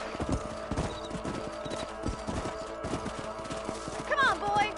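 Galloping horse hooves in Red Dead Redemption, a quick rhythmic clip-clop close by over ambient game sound, with a brief neigh near the end.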